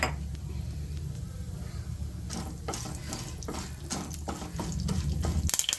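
Oil sizzles steadily as mustard seeds and lentils fry, with scattered pops and crackles and a few clinks of a spoon, growing louder toward the end.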